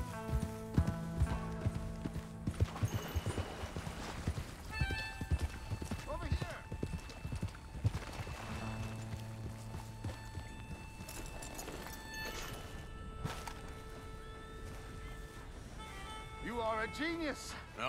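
Rhythmic hoofbeats of a galloping horse with an occasional whinny in the video game Red Dead Redemption 2, set against game music and excited voices throughout.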